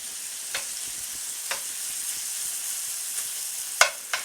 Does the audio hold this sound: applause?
no